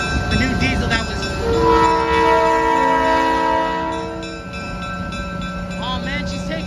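Diesel locomotive 358 rumbles and begins to pull away, its loud horn sounding sustained chords over the heavy engine drone, with chatter from nearby onlookers mixed in.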